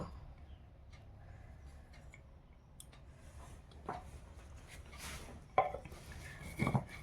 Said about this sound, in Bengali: এই আদাটা একটু থেতো করে নেব